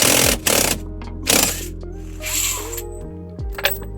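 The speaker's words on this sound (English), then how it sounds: "this centre bolt here looks to be a 24mm, so I'm going to use my impact gun to get it off" An impact gun hammers at the 24mm steering wheel centre bolt on a Ford Transit van in three short, loud rattling bursts, followed by quieter clicking and mechanical handling sounds.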